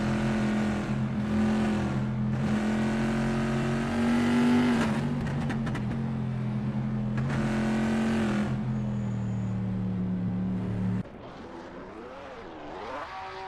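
Engine of a WSC60 race car at Le Mans, a sustained loud droning whine holding steady through the Porsche curves, rising briefly with revs before cutting off abruptly near the end, with no talk.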